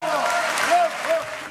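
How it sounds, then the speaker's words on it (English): A ballet audience claps in a dense, continuous burst of applause, close and loud, with voices briefly heard over it. "The most important time for us is the final applause."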